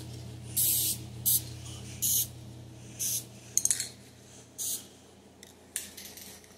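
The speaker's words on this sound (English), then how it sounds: "to use this Rust-Oleum spray lacquer. I find the spray lacquer works pretty well." Short bursts of Rust-Oleum spray lacquer hiss from an aerosol can while a wooden knob and tote are being refinished, about seven quick sprays, each under a second, with soft handling noises between them and a low hum underneath.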